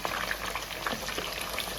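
Nargisi koftas, egg koftas, frying in hot oil: a soft, steady bubbling sizzle with scattered light pops, fairly quiet and close, with no talking.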